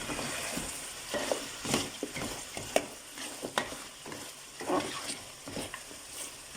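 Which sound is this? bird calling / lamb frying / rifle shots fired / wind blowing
lamb frying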